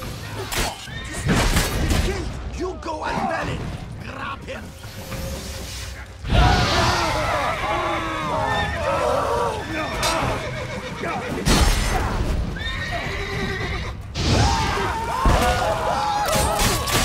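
Horses neigh and whinny in The Witcher 3: Blood and Wine, several loud, close bursts among game sounds, with characters talking throughout.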